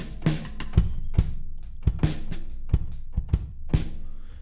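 Virtual drum kit plays a steady groove of kick, snare and cymbal hits with a roomy, reverberant wash of room ambience around each strike.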